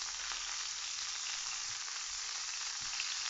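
Butter melting in a pan gives off a steady, even sizzle, close and quiet, with a few faint pops and no one talking.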